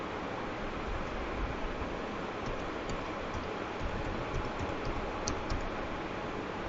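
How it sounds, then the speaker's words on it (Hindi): Steady typing on a computer keyboard while entering new owner details into a property tax form, faint and continuous under a soft broadband hiss, with no talk. "उदाहरण के तौर पे मैं यहाँ पे टाइप कर रहा हूँ डिटेल्स।"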